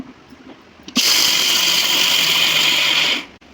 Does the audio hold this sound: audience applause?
no